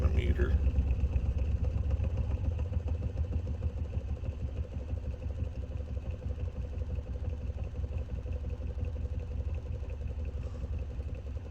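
A magnet ramp pulse motor runs with a fast, even clattering pulse and a low hum throughout, steady and close, while a person talks over it.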